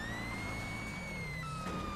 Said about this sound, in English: What is up with our siren? Sounds sad.